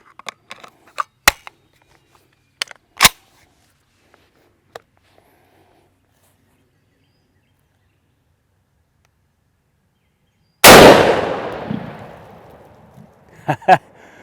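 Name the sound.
rifle gunshot, .300 Win Mag with 150 grain Hornady InterLock bullets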